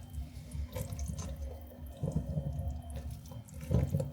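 Water from a tap runs into a bowl of German soft pretzel dough mix for Laugen-Brezen, a steady close-up splashing and trickling stream lasting a few seconds with no talk.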